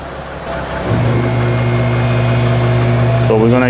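A Mercedes Sprinter van with a vibration fault after a transmission replacement runs on a lift with its wheels off the ground, its engine humming steadily and then settling into a louder, deeper drone as it moves through the gears.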